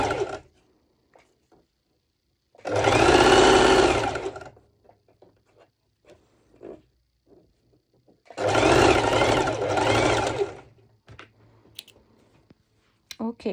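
Two separate runs of a sewing machine stitch a basting stitch along fabric for a sporty open-back top, each a fast whirring hum lasting about two seconds with quiet gaps and faint handling sounds between.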